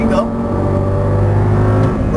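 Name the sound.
Audi race car accelerating on track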